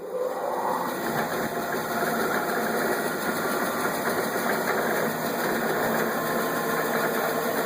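A Laguna 14|12 bandsaw fitted with a half-inch blade runs steadily with a smooth, even motor hum and a faint blade whine, close and continuous with no talking.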